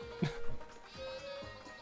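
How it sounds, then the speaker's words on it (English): Sheep in the Wii Party video game give a short bleat followed by fainter game tones and bleats, quiet and without talk. "I'm just playing with the sheep because they're nice."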